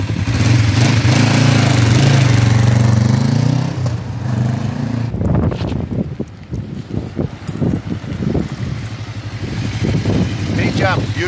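A Kawasaki Vulcan 500 custom motorcycle with electric start and 6,500 miles idles with a steady, loud low drone for about five seconds, then drops back under other rougher sounds and what may be a voice.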